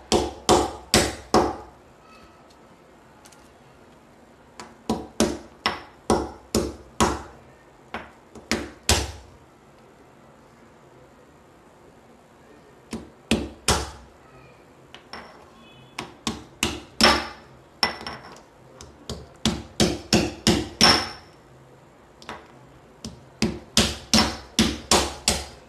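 Sharp knocks of crab shells being tapped and cracked during cleaning come in quick bursts and clusters, loud and close, with quiet gaps between groups.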